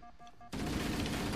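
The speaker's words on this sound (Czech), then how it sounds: "Au, tak někdo střílí ze všech stran," Gunfire in the Halo video game breaks out abruptly after a quiet moment, a dense continuous burst of rapid shots filling the rest of the moment, loud and without speech.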